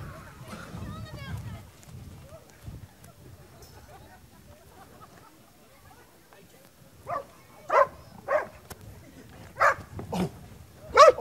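Dogs released outdoors bark in a run of short, sharp barks that grow louder toward the end, after people talk at the start of the scene.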